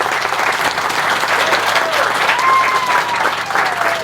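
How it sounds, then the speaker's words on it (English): An outdoor audience at a tomb rededication ceremony claps for the commission, a loud, dense round of steady applause sustained throughout with a few voices faintly under it. "Let's have a round of applause for the commission."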